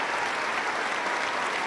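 Rapturous applause greets the first pope to set foot in the Capitol, a dense, steady roar of many hands clapping in a large chamber, loud and unbroken throughout.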